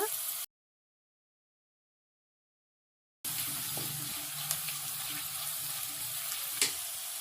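Onions frying with curry leaves in a pan for a tomato garlic dish, a steady sizzling hiss with scattered small pops, broken by a few seconds of total silence before the sizzle resumes.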